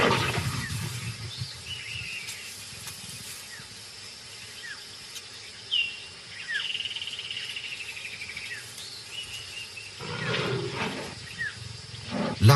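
Lions mating in the wild give out grunting roars and low growls. The calls are moderately loud against a steady background of chirping crickets and insects, with a couple of louder bursts near the end.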